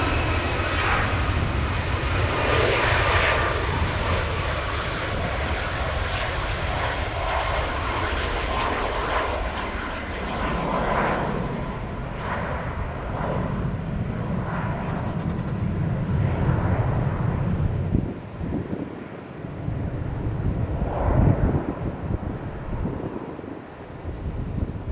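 An airliner departs Gerald R. Ford Airport in Grand Rapids with a sustained loud jet roar and wind buffeting, with rumbling swells as it climbs away.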